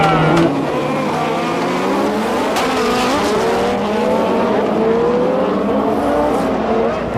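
Citroën BX rallycross car racing in the 1993 French rallycross championship: a loud, close engine screams through rising and falling revs with gear changes, tyre noise and constant crowd-like background, no speech.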